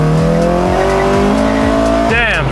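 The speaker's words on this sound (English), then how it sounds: "today is the day that the car is going in for a proper dyno tune" A K-swapped car on a dyno revs hard and loud, its engine note climbing steadily through the gears before a sharp final rise, close and continuous.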